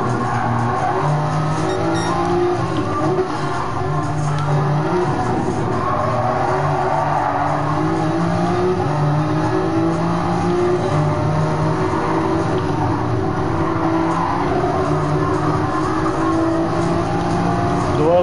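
A race car laps the Nürburgring in the video game Gran Turismo Sport on fresh tires, its loud engine droning without a break for the whole stretch, with tire squeal mixed in.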